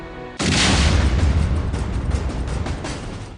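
A sudden loud bomb blast in Sri Lanka booms after a brief quiet moment, followed by a long, rumbling roar that slowly fades.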